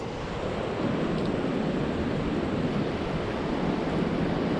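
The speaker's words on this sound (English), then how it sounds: "Wow, it's flowing pretty hard right now." Hard-flowing water on a Pacific Ocean shore makes a dense, steady roar that fills the clip without a break, with no voices.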